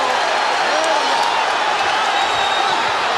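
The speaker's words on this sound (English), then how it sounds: "Crowd on its feet." A boxing arena crowd of about 20,000 on its feet during a heavyweight-style pitched battle, a dense, loud, continuous roar of cheering and shouting that fills the space without letup.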